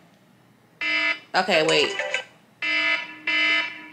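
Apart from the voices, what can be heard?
loud alarm sound on a phone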